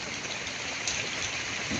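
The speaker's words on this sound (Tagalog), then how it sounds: "Ulan. Yan ang pinakamahirap sa nagtatrabaho sa bukid." Steady rain falls on farm fields, hissing evenly throughout, a dense wash of drops with no voices, fairly soft and constant.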